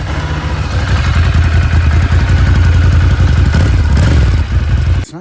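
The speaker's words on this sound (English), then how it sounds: "This is what this bike sounds like stock." A Ducati Scrambler motorcycle engine with its stock exhaust runs close up, a loud steady mid-pitched thrum with a clattery mechanical texture, cutting off abruptly near the end.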